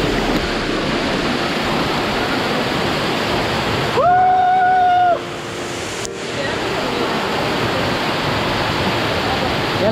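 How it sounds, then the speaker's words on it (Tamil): Ramapuram falls, a hidden waterfall near Arcot in Ranipet district, rushes with a steady, loud broadband roar throughout, briefly interrupted in the middle by a short tonal sound and a dip in the noise. "ராணிப்பேட்டை டிஸ்ட்ரிக்டில் தான் இது ஒரு ஃபால்ஸ் இருக்கு."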